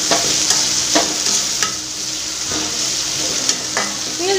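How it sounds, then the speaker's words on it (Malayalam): Soya chunks being stirred with salt in a hot pan, a steady frying sizzle broken by scraping strokes of the spoon at intervals, close and fairly loud, no talking. "കുറച്ച് ഉപ്പ് ഇട്ട് കൊടുത്തിട്ട് നന്നായിട്ടൊന്ന് ഇളക്കി കൂട്ടാം."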